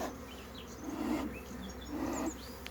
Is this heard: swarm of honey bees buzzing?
yes